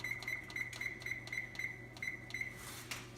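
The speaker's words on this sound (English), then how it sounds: "my timer just went off again" A kitchen timer goes off while cheeseburger mac cooks, sounding a steady run of short, evenly spaced bright beeps, about ten in three seconds, over a low hum.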